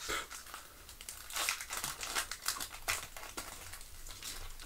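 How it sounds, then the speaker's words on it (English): Magic the Gathering booster packs from a Modern Horizons box being torn open, a steady close crinkle and rip of foil wrappers with repeated sharp tearing bursts, quiet and with no voices. "I am an expert at opening packs of Magic the Gathering cards"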